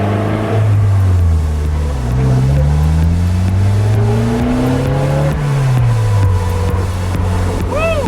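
A 2017 Polaris Slingshot three-wheeler drives outdoors with a steady, close engine drone. The pitch climbs and falls as it accelerates and shifts, over constant wind and road rush.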